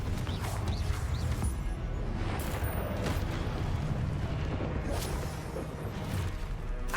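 A Confringo blasting spell going off in the Hogwarts Legacy video game: a dense, continuous rumble of battle noise with several sharp bursts and crackles layered through it.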